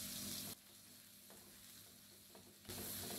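A spice paste with bay leaves sautéing in a pan, a faint steady sizzle with a couple of soft stirring knocks, framed by louder bursts of frying at the start and end.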